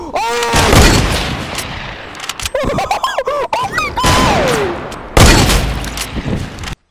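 Loud gunshots and impacts in the video game Fortnite, a burst of cracking shots and heavy thuds mixed with whistling, swooping effects and a final sharp blast, with a voice exclaiming among them.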